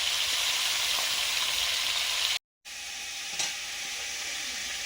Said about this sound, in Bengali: বোয়াল মাছের মুড়োগুলো ভাজছি এখন